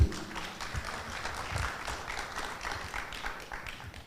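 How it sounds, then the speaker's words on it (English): Audience applause for the panelists at the close of a keynote discussion at an international symposium on sustainable buildings and cities: a dense, steady patter of many hands clapping, which fades slightly over a few seconds. "Let's give a round of applause once again for the amazing panelists."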